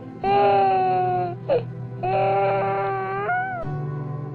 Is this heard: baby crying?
yes